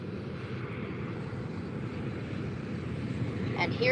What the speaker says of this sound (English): And now landing is a Eurowings A320 from Hamburg.